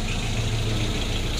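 A 1992 Isuzu Panther engine idles just after starting, a steady low rumble with a faint knocking pulse, close by and continuous with no voices.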